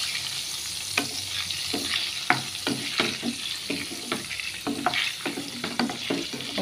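Boiled eggs frying in a pan with chili powder for a Goan egg masala: a continuous close sizzle broken by repeated spatula scrapes and taps at an uneven rhythm, with no talking.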